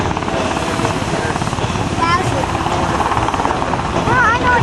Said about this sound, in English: Adam Spencer, Lieutenant J.G. Jason Evans prepare to bring the helicopter up and hover over the moving boat